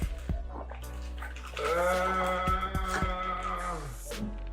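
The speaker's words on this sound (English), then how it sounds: "filling up his cups of water for My chicken bouillon" Tap water running steadily into cups being filled for a vegan chicken bouillon, a sustained pouring rush with rising tone, preceded by a few small clinks and knocks in a kitchen.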